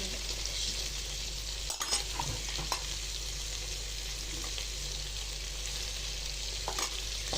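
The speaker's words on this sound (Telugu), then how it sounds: "అల్లం వెల్లుల్లి పేస్ట్ వేసాక తిప్పాలి బాగా కలిసాను." Ginger garlic paste being stirred into vegetables frying in a pan for veg biryani, a constant close sizzle with occasional scrapes and knocks of the spoon against the pan.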